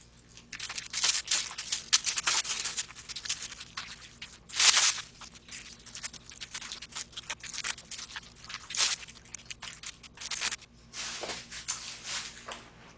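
Wing material for DIY light-up Tinkerbell costume wings trimmed with scissors, close crisp crunching snips and crinkling in irregular bursts, some louder cuts standing out.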